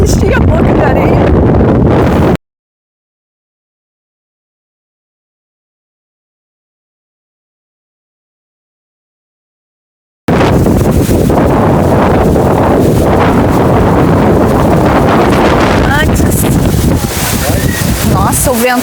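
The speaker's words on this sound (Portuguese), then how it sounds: "o vento tá até tirando o telefone da minha mão" Strong wind batters a phone microphone at Praia dos Anjos beach in Arraial do Cabo, making loud, rumbling, continuous buffeting that drops out completely for a long silent stretch midway before returning just as hard.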